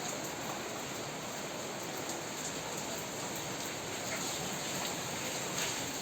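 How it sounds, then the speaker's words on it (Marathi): Steady, dense rainfall pours without a break, a continuous wash of drops hitting surfaces close by. "बघा पाऊस कसा जोरात येतो आहे"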